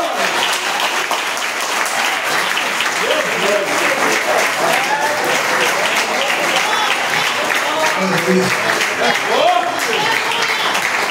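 A church congregation claps together in a long, steady burst of dense applause, loud and continuous, with some voices faintly mixed in.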